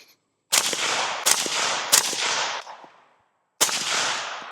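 Bursts of gunfire from an ELF Conley firearm, fast full-auto strings followed by a single semi-automatic shot after a short pause, loud and close with sharp onsets and ringing decays, no talking.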